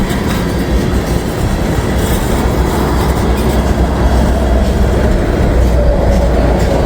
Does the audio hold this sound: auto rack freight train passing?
yes